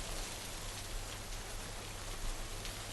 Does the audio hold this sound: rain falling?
yes